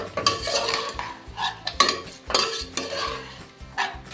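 A metal spoon scrapes and clatters against a pan in repeated strokes while chicken pieces sizzle softly in hot oil underneath over a high gas flame.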